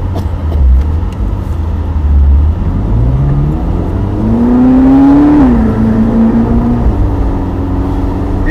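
A Ferrari's engine revs while driving, a loud, close mechanical growl that climbs steadily in pitch over several seconds, drops back briefly and then holds a higher, steady drone.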